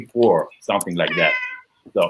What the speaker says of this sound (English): oh, I hear a cat.